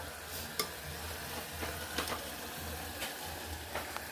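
Tomatoes cooking down in a home kitchen pan. A quiet, steady sizzle carries occasional soft scraping strokes of a spoon, with no talking.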